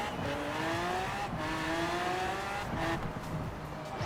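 A race car engine in Forza Horizon 4 revs loudly and steadily, its pitch rising and falling through gear shifts, continuous and close with no talking.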